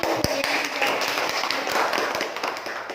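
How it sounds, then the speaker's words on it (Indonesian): Classroom audience applauding a student presenting group, a burst of many hands clapping in quick irregular claps, fairly close and lively, continuing steadily for several seconds. "Kita beri aplaus untuk kelompok 1"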